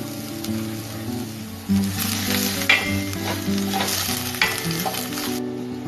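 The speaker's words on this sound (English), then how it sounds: "And saute your minced garlic and your 1/4 minced onion," Minced garlic and chopped onion sauté in a few tablespoons of olive oil in a pan, with a steady, close sizzle and occasional stirring scrapes throughout, no voices.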